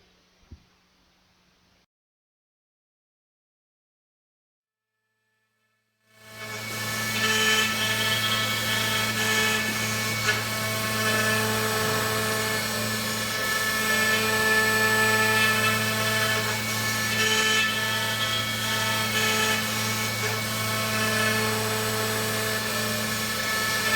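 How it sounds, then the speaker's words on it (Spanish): A Roland MDX-40A milling machine finishes the side of a 3D model, starting after a few seconds of near silence and then holding a steady, high whining spindle drone with a faint mechanical hum beneath it. "Aquí podemos ver cómo se está realizando ya el acabado de uno de los laterales y cómo la herramienta perfila en este caso el modelo 3D"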